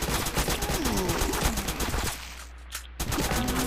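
Assault rifle fire in the top-down shooter Crimsonland, rapid continuous bursts of shots that stop abruptly for about a second before resuming.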